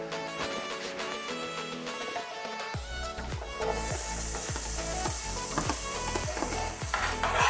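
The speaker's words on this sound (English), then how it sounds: "after the butter melt, I will fry down my seasoning that I just chopped up" Chopped seasoning frying in melted butter for stuffed Spanish shells, a steady close sizzle with repeated stirring scrapes, with no talking.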